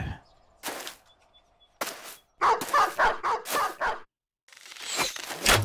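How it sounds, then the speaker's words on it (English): Dogs bark in the Battle Brothers video game, several sharp close barks in quick bursts mixed with combat noises and short gaps of silence. "The dogs are going for him."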